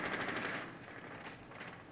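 Rapid automatic gunfire in Rainbow Six Siege rattles in a dense burst, then continues more softly as a steady crackle with no voices.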